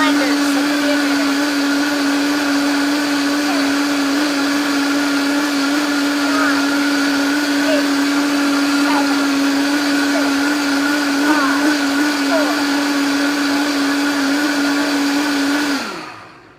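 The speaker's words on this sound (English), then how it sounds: "I just don't want to talk over the blender, so give me a minute." A blender grinds almonds with about three cups of water into almond milk, a loud, steady, high whine that holds for around sixteen seconds and then winds down to a stop.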